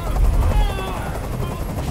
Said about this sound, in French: Fais dégager cet hélicoptère, maintenant!